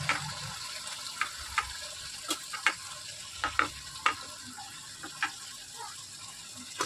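Eggplant pieces tossed into hot spiced oil and stirred, giving a soft steady sizzle broken by scattered scraping clicks of the spoon against the pan.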